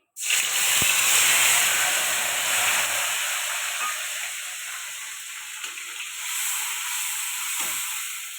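A ground paste of fennel, cumin, whole garam masala and green chilli hits hot oil for a jackfruit curry, bursting into a loud hissing sizzle that slowly fades, with a few faint knocks of stirring.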